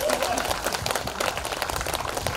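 Audience applause welcoming singers at an outdoor open-air concert in Mokpo: a dense, steady wash of many hands clapping, fairly close and sustained for a couple of seconds, with no voice standing out.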